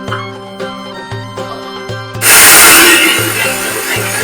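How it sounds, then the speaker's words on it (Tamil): A mixer grinder coarsely grinding basmati rice in a jar starts up loud and close, a harsh whirring roar over steady background music. "நம்ம எடுத்து வச்சிருக்க பாஸ்மதி ரைஸ் ஒரு ஜார்ல போட்டுக்கலாம். நல்லா அரையும் குறையுமா ஒரு கிரைண்ட் பண்ணி எடுத்துடலாம்."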